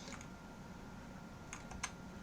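A few soft keystrokes on a computer keyboard as a password is typed into a terminal login, quiet clicks scattered over a low background hum with no talk.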